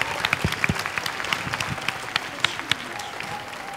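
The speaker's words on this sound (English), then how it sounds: "Can everybody give a big round of applause for our teacher, Miss Angelis?" Audience clapping for a teacher at a school soap and handwashing presentation, sparse, uneven applause with distinct close hand claps standing out over a thinner crowd of clapping.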